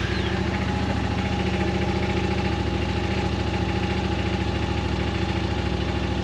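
A 2024 Yamaha Wolverine X2 1000 engine idles steadily and close with a Weller Racing blockoff plate fitted, a rhythmic low throb that holds even throughout with no talking.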